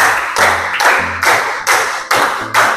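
Two rounds of five sharp hand claps each in a classroom coaching exercise, loud and evenly spaced with brief gaps between the bursts.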